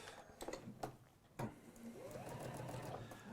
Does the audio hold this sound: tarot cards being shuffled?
no